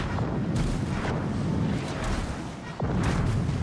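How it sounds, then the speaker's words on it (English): Depth charges detonate in a naval warship video game, with heavy booming blasts and rumbling bursts in quick succession, loud and continuous across the stretch. "Depth charges."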